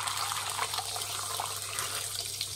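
Field beans (avarekalu) frying in hot oil, a continuous loud hissing sizzle lasting about two and a half seconds with a low steady hum beneath.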